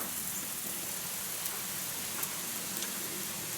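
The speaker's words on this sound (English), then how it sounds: "You can hear that rain on the roof." Rain falls on the roof of a cabin in summer, a steady even hiss of drops with a few slightly louder taps standing out, heard alone without speech.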